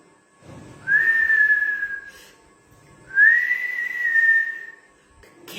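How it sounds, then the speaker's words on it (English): A whistle is blown twice, each a long sustained tone lasting about a second or more, with a short pause between blasts, clear and close. "He put the whistle on his lips and"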